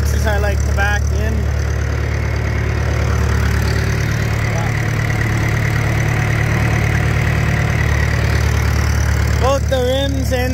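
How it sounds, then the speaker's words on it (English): A John Deere 2350 farm tractor, running on two flat tires, idles with a steady, loud low rumble throughout, while someone talks briefly at the start and again near the end. "drive a tractor with 2 flat tires"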